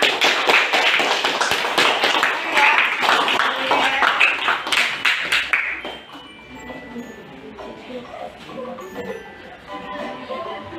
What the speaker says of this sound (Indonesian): Kita berikan tepuk tangan untuk kelompok sosial drama.